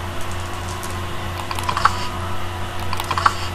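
A computer keyboard gets a few sparse key presses, including the Enter key, heard as light, separated clicks over a steady low hum in a quiet room.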